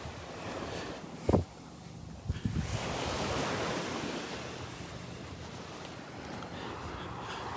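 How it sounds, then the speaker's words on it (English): Small surf washes onto Vanderbilt Beach under an east-northeast wind, a soft continuous rushing with gentle swells, a couple of brief knocks early on, and light wind noise over the microphone. "So it's actually knocking the waves down, but we still do have a little wave action here."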